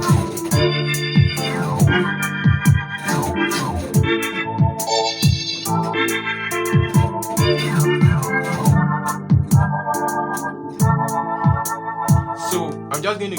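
Piano runs played on a keyboard's riot piano voice, with busy, bright repeated notes and chords rolling continuously and loudly, with no talking.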